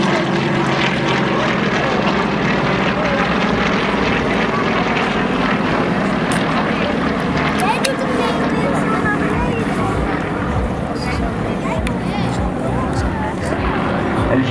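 A propeller aircraft engine drones loudly and steadily overhead at the Volkel air show, with a commentator talking over it throughout.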